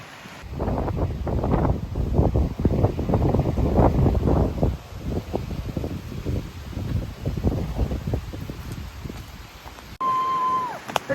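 Strong gusting wind buffets the microphone on a lakeside beach along a hiking trail, loud rumbling bursts rising and falling for about ten seconds before a brief quieter moment.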